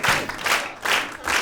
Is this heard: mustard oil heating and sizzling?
no